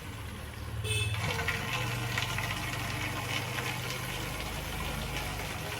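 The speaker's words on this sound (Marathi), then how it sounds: "आमच्या घरातील हे नळ जे आलेलं आहे ठीक आहे त्याच्यावरती आपण चेक करतोय की कशा पद्धतीचा पाणी पुरवठा आम्हाला नागरिकांना केला जातोय" Water gushes from a household tap in a steady, close, continuous flow that starts abruptly about a second in and holds loud and even to the end.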